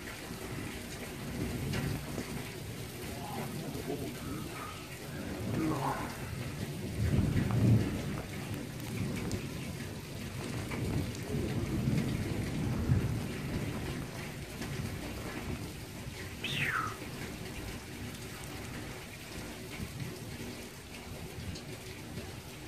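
A heavy thunderstorm with steady, dense rainfall and deep rolling thunder rumbling through the middle, with muffled voices faintly under the downpour.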